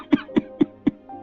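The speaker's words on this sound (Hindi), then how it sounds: "अरे बेटा, ये खांसी बढ़ती जा रही है।" An old man in a cartoon coughs four times in an even rhythm, each cough short, close and fairly loud, with no speech.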